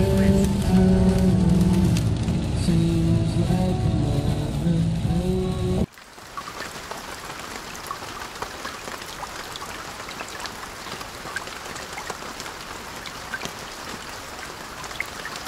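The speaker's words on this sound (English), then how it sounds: "I've been driving in rain all day." Rain pattering steadily on a car driving on the highway, a dense even hiss of drops that follows a few seconds of louder tonal sound at the start.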